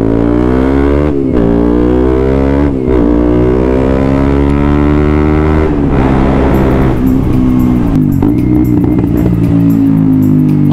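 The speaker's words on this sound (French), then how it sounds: "Renault Sport RS, Mégane RS. Ça fait des sales retours normalement." A Renault Mégane RS sports car engine drones loudly with strong harmonic tones, revving and shifting pitch over several seconds as it drives by in town traffic, with no talking.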